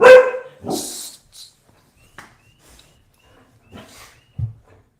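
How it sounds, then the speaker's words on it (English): A dog gives one loud close bark followed by a softer yelp, then scattered faint movements and a brief low woof in an otherwise quiet room. "my dog, my puppies"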